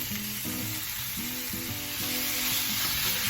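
Lean ground white turkey browns with onions in a pan, producing a steady close sizzle broken by a few stirring scrapes.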